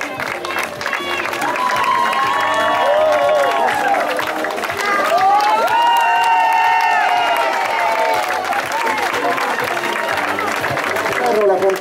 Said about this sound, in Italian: Facciamo un applauso anche a Gaetano Spagnolo